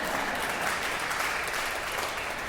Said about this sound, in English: You can clap for your Bible.